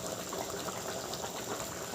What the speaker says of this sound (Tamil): இப்போ பாருங்கள், நல்லா கொதிச்சிடுச்சு.